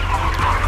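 Broiler chickens cluck in a coop walled with GRC panels, a dense murmur of clucking over a steady low hum, close and continuous for a brief moment without talk.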